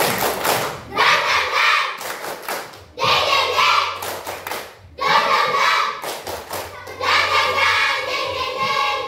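Schoolchildren in a classroom do a rhythmic spirit clap, four loud patterned bursts of group clapping and chanting with short silent gaps between them, close and energetic.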